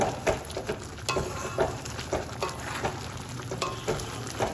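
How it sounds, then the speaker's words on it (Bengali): Dim aloo chorchori, an egg and potato curry with garam masala and chopped coriander, being stirred in a pan, a gentle sizzle punctuated by rhythmic spoon scrapes and taps, close and moderately quiet, no voices. "সবকিছু ভালোভাবে এবার মিশিয়ে নেব"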